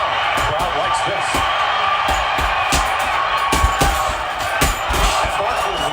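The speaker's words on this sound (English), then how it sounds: "The crowd likes this." Boxing arena crowd at the Hearns vs Barkley fight, a loud continuous roar of cheering with scattered sharp thuds and slaps, a commentator talking over it throughout.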